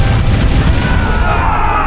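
A loud, deep boom of cannon fire in a battle scene rolls out as a low rumbling blast, followed by a fading tonal ring, with no voices.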